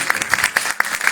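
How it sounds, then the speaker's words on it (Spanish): Audience at a folk music recital breaks into brisk applause, a dense burst of many hands clapping with a few sharper individual claps standing out. "Un gran aplauso, por favor, otra vez."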